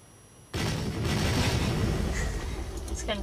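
Grenades dropped in the flash game Interactive Buddy burst into a dense, continuous rumble of blasts after a quiet start, loud and sustained for several seconds with a voice talking over it.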